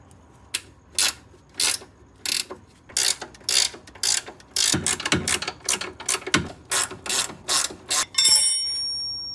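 A ratchet tightens a bolt on a 1967 VW Type 3 Squareback during a rear string alignment, giving a series of crisp, close clicking bursts in an uneven rhythm, with a brief ringing metallic scrape at the end.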